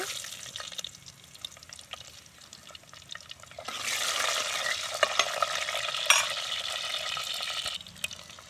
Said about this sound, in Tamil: எண்ணெய் காய்ஞ்சிருச்சு கடுகு போட்டுக்கலாம் பூண்டு